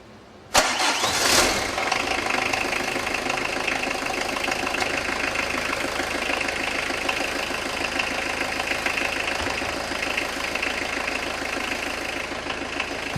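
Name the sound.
1.9 turbo diesel car engine starting and idling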